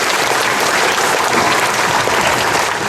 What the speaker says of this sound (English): So final round of applause